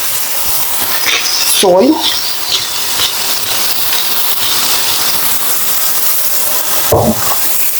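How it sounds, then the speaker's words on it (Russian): Meat sizzling steadily in a hot pan, a broad continuous frying hiss that runs the whole time under a woman's brief spoken words. "мясо у нас зашкварчало"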